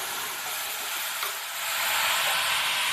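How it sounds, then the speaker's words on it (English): Coconut laddu mixture stirred in a hot pan, a steady broad sizzle and hiss that swells slightly louder partway through, close and continuous with no voices. "So I am stirring because"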